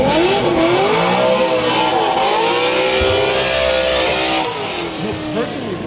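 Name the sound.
Corvette race car engine revving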